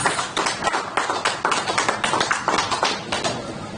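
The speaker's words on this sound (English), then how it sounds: "can we please welcome him with a round of applause?" Audience at a Rotary International district conference in Abuja applauding the district governor, a sustained wash of many hands clapping with a fairly even rhythm and no talk over it.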